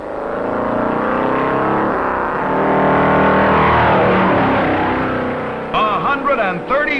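Loud 1957 stock cars, including Pontiacs, rumble past on the Daytona Beach road course during the pace lap of the Grand National Beach and Road Race, a steady droning engine roar that swells and fades, with voices near the end.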